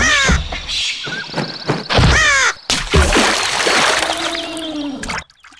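Crows cawing in the PC game Hugo: Tropikalna Wyspa 4: several loud, harsh caws in quick succession mixed with splashing and other game effects, ending abruptly.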